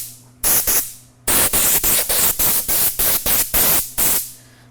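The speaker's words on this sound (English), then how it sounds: "So this is a Prevost S1 blower." A Prevost S1 compressed-air blower gives off loud, close, broadband hissing in a rapid series of about ten short bursts after one opening blast. The bursts come with brief gaps between them over a steady low hum.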